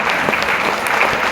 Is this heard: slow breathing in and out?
no